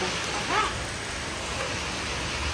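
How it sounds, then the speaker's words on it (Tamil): Rain falls steadily in a village, making a dense, even hiss of drops on surfaces that stays close and continuous throughout, with no voices. "மழை பெய்ய ஆரம்பிச்சிடும்"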